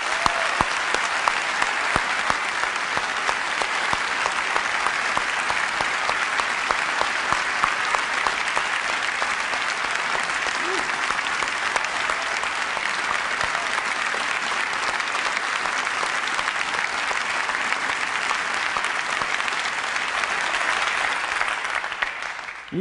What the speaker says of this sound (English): I would just like to give them a round of applause.